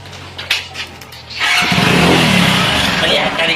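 A motorcycle engine turns over with a few sputters, then catches and runs with a loud, steady rumble. Voices talk lightly underneath.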